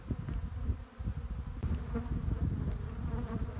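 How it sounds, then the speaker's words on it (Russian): Irritated honeybees buzzing steadily and loudly at an open hive after winter, handled without a smoker, a dense continuous hum filling the whole stretch without speech. "У меня нет с собой дымаря, так что пчелы немного раздражены."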